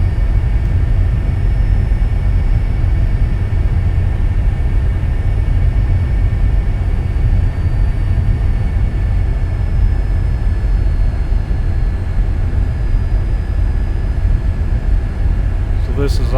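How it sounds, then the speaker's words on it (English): A hydraulic aircraft on approach in a flight simulator game, with a loud, steady engine drone and rumble that holds unbroken from start to finish. "this is a hydraulic aircraft"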